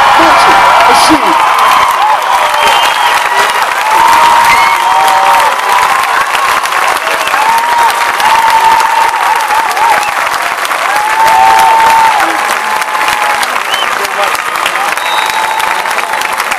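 Large crowd at a college marching band festival applauding and cheering for the Morgan State University marching band, loud and sustained, with whoops rising over continuous clapping and an announcer's voice faintly mixed in.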